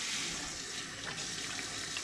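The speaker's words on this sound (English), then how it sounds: "you have to wash your hands" Hands being washed under a running kitchen tap, a soft, steady stream of water splashing into a sink with slight fluctuations as the hands move, fairly faint and with no talking.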